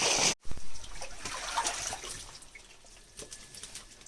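Water is drained out of a pond before prawn fishing, a continuous trickling, splashing flow close by after a sharp clatter at the start, fluctuating slightly in strength.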